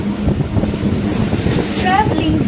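A Chennai local train rolls along on the Beach–Chengalpattu line, a loud rumble of wheels on rails with high metallic squeals rising over it.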